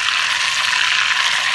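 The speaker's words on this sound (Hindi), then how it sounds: "ये देखें हींग का तड़का लग गया" Asafoetida tempering sizzles hard in hot fresh butter for mustard-greens saag, a loud, steady, hissing crackle that fills the whole moment with no voices.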